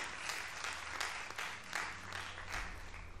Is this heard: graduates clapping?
yes